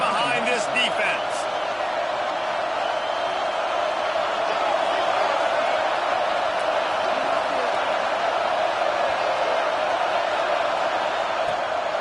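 Dense, steady roar from a football stadium crowd at an Ohio State vs Washington game, rising behind the defense on a big third down; the wash of noise stays loud and unbroken throughout.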